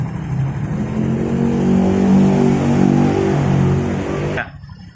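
Automatic scooter with a freshly repaired CVT, its engine revving smoothly up and down close by for a few seconds before cutting off abruptly.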